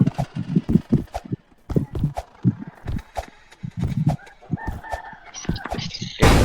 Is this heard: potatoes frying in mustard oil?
no